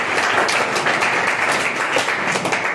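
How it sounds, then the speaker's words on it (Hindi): Audience at a World No Tobacco Day event clapping loudly, a dense continuous burst of applause filling the whole short stretch. "हाँ जोरदार ताली होनी चाहिए"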